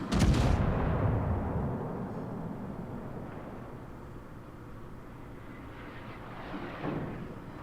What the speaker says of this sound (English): so that was about a 10K volley there